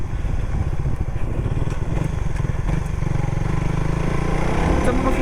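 A Suzuki Raider FI motorcycle engine runs while riding, a loud continuous rasping drone with rapid firing pulses that rises in revs near the end, under a voice.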